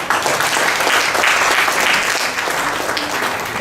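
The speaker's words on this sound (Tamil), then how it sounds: "அவர்களுக்கு ஒரு கைதட்டு கொடுங்கள்." Audience applause at a book launch honouring two authors, a continuous wash of clapping from a seated crowd, sustained and fairly loud, easing slightly toward the end.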